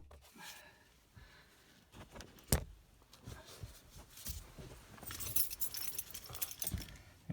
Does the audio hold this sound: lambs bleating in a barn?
no